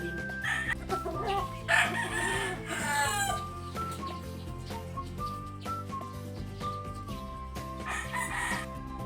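Gamefowl cockerels and a brood hen in a range crow and cluck. Several loud, clear cock-a-doodle-doo calls overlap, alongside clucking.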